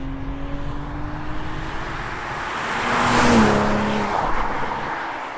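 A BMW M240i xDrive engine revs up under hard acceleration and roars past loudly, swelling to a peak and then easing off, with a whining pitch sliding downward.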